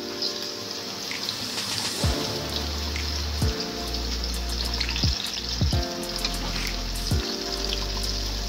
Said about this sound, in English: I'm gonna add in the garlic cloves which I've chopped thinly into the oil